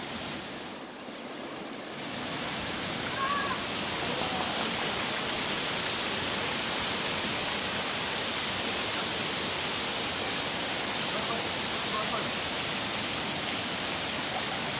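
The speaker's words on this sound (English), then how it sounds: "Oh my god, there's such a good waterfall here." Rushing water of the Kanching waterfall in Malaysia, a steady broadband roar that fills the whole scene after a brief quieter moment at the start, continuous and close with no talk.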